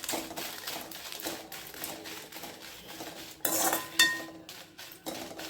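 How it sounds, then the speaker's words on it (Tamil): Dried red chillies being sautéed in a pan on low heat, with a steady dense rustle broken by sharper metallic clinks and scrapes of a utensil against the pan, close and moderately loud, no voices. "இது வதக்கி எடுத்துடலாம்"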